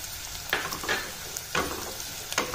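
Onion and peanuts fry in a pan for moong dal khichdi, a steady sizzle broken by about four louder scraping stirs spaced roughly a second apart, close and with no talking.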